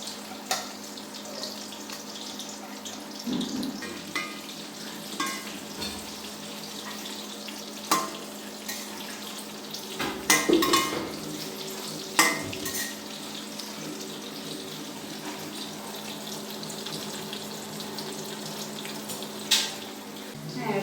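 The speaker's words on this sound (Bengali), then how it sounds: "আমি এখন চিংড়ি মাছগুলো কড়াইতে দিয়ে দেবো।" Shrimp frying in hot mustard oil in a wok, giving a steady low sizzle with scattered clinks and stirring scrapes throughout, no talk.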